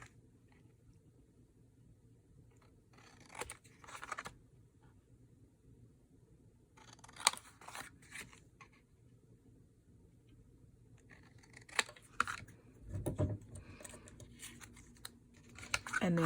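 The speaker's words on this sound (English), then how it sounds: "So I just snip those off." Scissors snip trimmed fabric and tissue paper for a decoupaged journal cover, heard as clusters of small crisp clicks and cuts in three brief bursts against a faint, hushed background.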